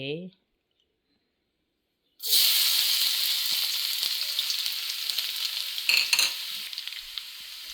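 Eggs frying in a pan, a loud steady sizzle and crackle that starts suddenly after a brief voice and silence, close up with occasional pops.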